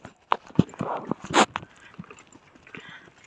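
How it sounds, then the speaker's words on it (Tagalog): Horse hooves clip-clopping on the ground at Balesin, with a few irregular, fairly close clops and some sharp clatter and snorting-like noises, then quieter scattered steps. "Horsey."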